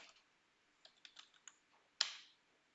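Keys on a computer keyboard clack during coding, a quiet, close run of scattered taps and clicks ending in one sharper, louder key strike.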